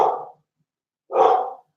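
Dogs bark twice with a pause between, clear and fairly close, alone with no talk.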